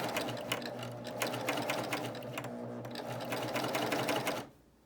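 A BabyLock Euphoria coverstitch machine stitches steadily over a fabric seam, a fast, even mechanical whir close by that stops abruptly at the end.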